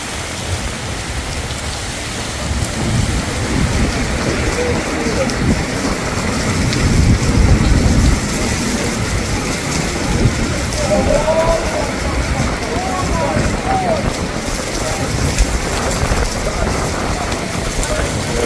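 Steady, dense heavy rain pours loudly on surfaces in front of a mall in Dubai, with gusty wind noise throughout, swelling briefly midway; no distinct thunder stands out.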